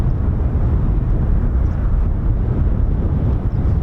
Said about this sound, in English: So F-35s and F-15s spooling.